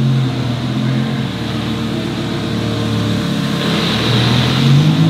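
A Lamborghini Gallardo pulling up, its engine a loud, close, steady low rumble with a slight rise in revs toward the end, no voices over it.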